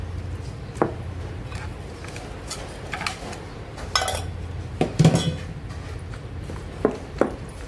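Boiled gongura leaves are mixed into a village-style chutney of pounded green chilies, sesame and peanuts in a pot, with scattered clinks and scrapes of a utensil against the metal over a low background hiss.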